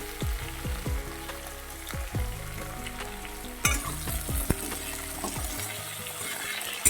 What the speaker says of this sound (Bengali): বেগুনটাও একটু ভেজে নেবো